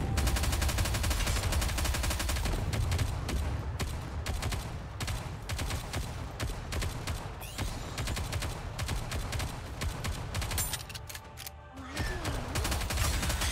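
Sustained, dense gunfire from the video game Nikke: Goddess of Victory, rapid automatic bursts layered into a loud, continuous barrage for the whole stretch, with only a brief dip near the end before firing resumes.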